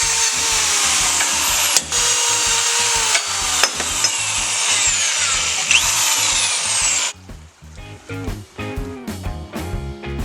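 Power drill driving screws into bracket holes on a scooter build, a loud steady whirring run with brief pauses, then shorter bursts and clicks toward the end.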